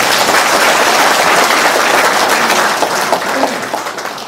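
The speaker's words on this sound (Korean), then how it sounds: "우리 이원우 선생님을 모시기 위해서 한 번 더 박수 보내주시기 바랍니다" An audience at a lecture in Busan gives a loud, dense round of applause to welcome a speaker, a full wash of clapping that starts strong and tapers off over about four seconds.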